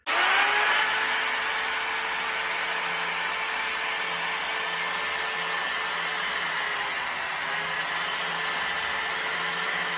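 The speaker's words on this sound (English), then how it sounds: "next we're going to use a sander, and we're going to take these edges and we're going to round them off" A power sander rounds the edges of a faux wood beam with a steady, high-pitched whine and an even grinding hum that runs for the whole ten seconds, close and loud, with nobody speaking.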